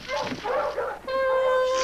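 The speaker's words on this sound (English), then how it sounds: "I think I hear a dog. Listen. More than one dog, and coming closer." Several dogs bark and whimper in a cartoon scene, a few yips and short barks at moderate distance, followed by a steady high whine, with the pack seeming to draw nearer.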